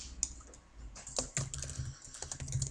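Keys on a computer keyboard are typed out at an uneven pace, each keystroke a crisp, close click with small pauses between bursts and no voices over them.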